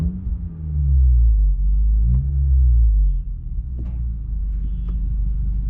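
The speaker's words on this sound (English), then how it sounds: "Give you guys another rev." A 2020 Honda Accord Sport fitted with a PRL street downpipe revs up, its deep engine rumble climbing and falling in pitch twice before settling to a low idle hum, close and loud.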